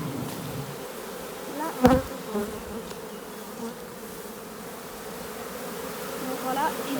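Honeybees buzzing steadily around a beekeeper carrying the queen in hand, a close, continuous hum with a brief thump and a few faint spoken words.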